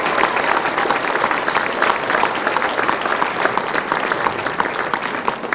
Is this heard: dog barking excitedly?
no